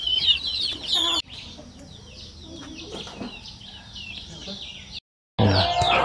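Native village chickens, from small birds to hens in individual cages, cluck and squawk nearby on a farm in Ruteng, with short bursts of calls over a steady background murmur, a brief silent gap, then more clucking.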